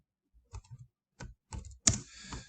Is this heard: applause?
no